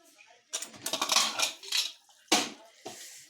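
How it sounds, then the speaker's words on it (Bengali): Metal lid set onto a pressure cooker while potato and green pea curry cooks, giving a few sharp clanks and rattles, close and fairly loud, with a couple of separate knocks after a short pause. "এখন আমি এটা ঢাকনা লাগিয়ে দেব"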